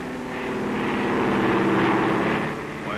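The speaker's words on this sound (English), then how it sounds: "Why, it's a plane." A propeller airplane flies overhead, its droning engine swelling to a loud peak mid-pass and then easing off as it moves away, heard alone without speech.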